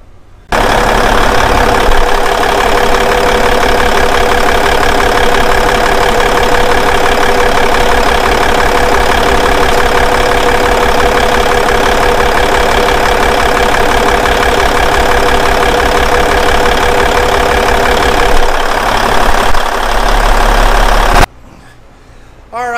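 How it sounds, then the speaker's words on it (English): An N14 Cummins diesel engine cranks and catches, then holds a loud, steady, rumbling idle for about twenty seconds before cutting off abruptly. "we're gonna go start this thing up and then check to make sure we ain't got no goddamn leaks"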